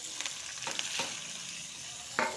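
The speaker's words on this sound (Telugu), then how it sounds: "ఇప్పుడు ఈ ఎల్లుల్లిపాయలు, ఉల్లిపాయలు, కరివేపాకు వేసేస్తాను" Garlic, onions and curry leaves sizzle in hot oil after tempering seeds, a soft steady frying hiss with a few brief stirring scrapes, close and fairly quiet, no talking.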